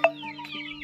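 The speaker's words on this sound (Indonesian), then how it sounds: "Ini ayam pelung semua nih." A Pelung chicken gives a short, sharp cluck followed by softer chirping calls, brief and close, over a faint steady hum in a village setting.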